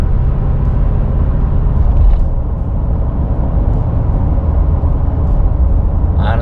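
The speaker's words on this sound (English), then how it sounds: "Just show you how everything shifts and how the gears pop through." A Ford F-350 Super Duty dually with a 7.3 Godzilla engine and 10-speed transmission pulls away, a heavy low rumble from inside the cab with subtle dips as the gears shift through, loud and steady with no talking.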